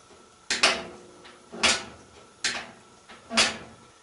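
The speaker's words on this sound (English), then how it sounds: "Click when you close the door" Whirlpool washing machine door shut repeatedly, four distinct close-up thumps with sharp clicks from the lid switch, evenly spaced about a second apart.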